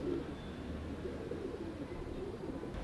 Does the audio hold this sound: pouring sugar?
no